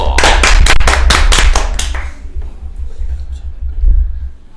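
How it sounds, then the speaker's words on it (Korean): A few people clap loudly and close in a quick run of about eight sharp claps over two seconds, then stop, leaving quieter room noise and faint voices. "VIP 박수"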